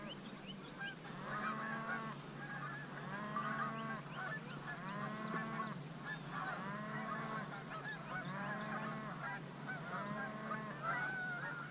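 A large flock of geese honking in repeated overlapping bursts during a late-season goose hunt, the calls steady and fairly close, with no talking.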